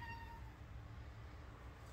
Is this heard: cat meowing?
yes